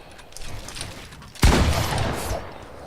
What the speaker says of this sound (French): Hop, je prends le pompe.